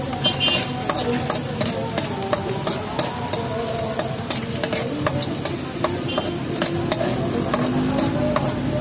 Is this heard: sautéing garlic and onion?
yes